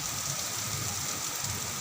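Heavy rain falls steadily in a village, a dense, even hiss of downpour with no pauses, fairly loud and continuous throughout, with no voices.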